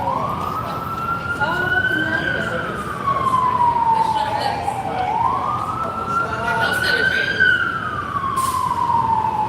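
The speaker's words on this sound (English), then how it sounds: "Where are those sirens coming from?" A wailing emergency siren on a New York City street rises and falls in long sweeps, loud and fairly close, over the rumble of street traffic.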